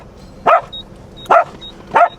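A dog barks three times at an even pace, loud and close, with quiet pauses between barks while travelling with dogs on a RORO ferry crossing from Cebu to Bacolod.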